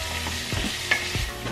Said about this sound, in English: I'm like waiting for that sizzle noise